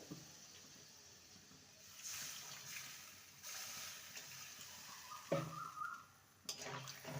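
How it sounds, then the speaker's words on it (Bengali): Water used to rinse a mixer jar is poured into a cooking pot of ridge gourd and potato with poppy seed, a quiet, steady gush with a few brief clatters near the end. "এবারে আমি মিক্সির জার ধুয়ে জল দেব"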